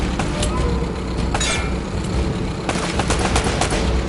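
Rapid automatic gunfire from a video game shootout, bursts of sharp cracks rattling over a loud rumbling background, thinning out briefly before another dense volley.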